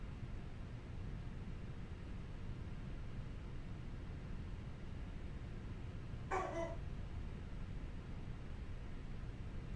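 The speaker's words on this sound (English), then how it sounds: "Oh, that's my dog in the background," A single short dog bark from a pet somewhere in the house, faint and distant over a constant hiss of engine and cockpit noise.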